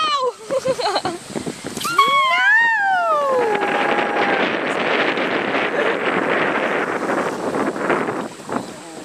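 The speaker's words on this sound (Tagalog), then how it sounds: "Malakas ang hangin dito." Strong wind roars steadily across the microphone on a fishing outing, with excited voices and a rising whistle-like cry over it early on.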